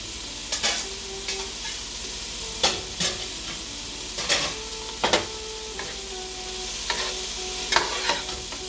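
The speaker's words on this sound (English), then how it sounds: "We're going to mix this for another additional minute with the broccoli added." Shrimp and broccoli stir-fried in a pan sizzle steadily, with a utensil scraping and clacking against the pan in irregular strokes every second or so, close and fairly loud.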